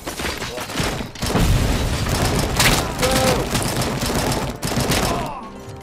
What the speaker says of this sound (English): Can you stop throwing nades at me?